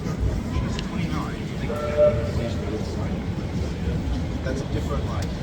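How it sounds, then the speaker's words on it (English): A Manchester Metrolink tram in the city near Piccadilly Gardens passes with a continuous low rumble and rolling noise. A brief tonal signal sounds midway through. "Tram."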